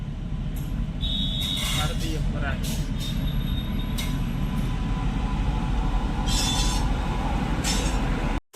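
A train rumbles past close by, wheels clattering and squealing over a continuous low roar, until the sound cuts off abruptly.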